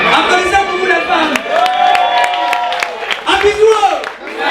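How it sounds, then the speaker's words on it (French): A comedy show audience claps and cheers with scattered whoops, while a performer's voice carries on over the crowd noise. "Applaudissez pour vous les femmes."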